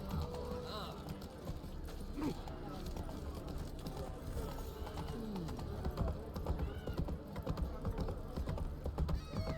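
Roach, Geralt's horse in The Witcher 3, gallops with steady clip-clop hoofbeats close by, a busy game soundscape and bird calls around it, and a voice speaks over the running.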